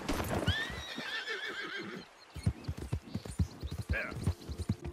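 A horse in Red Dead Redemption 2 lets out a loud, wavering neigh, then its hooves clop in an uneven close rhythm with a short snort near the end.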